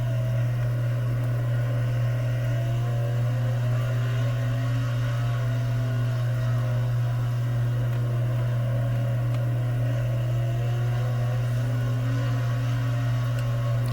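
Street stock race cars roar around Fairbury in the World of Outlaws '23 racing game, a loud continuous engine drone holding steady with faint shifting tones layered above.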